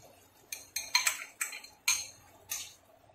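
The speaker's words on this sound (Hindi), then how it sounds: "टमाटर के साथ मसाला भून लेते हैं हम।" A spoon knocks and scrapes against a pan as tomato and spices are stirred and fried, giving a series of about six sharp metallic clinks spaced irregularly over quiet background.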